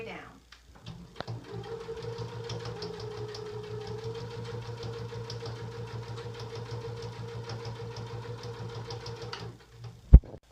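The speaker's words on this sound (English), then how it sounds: "Now I'm going to sew all the way down." A sewing machine stitches a pillow seam, running at a steady, rapid mechanical hum with rhythmic needle ticks for about eight seconds before stopping, followed by a sharp click.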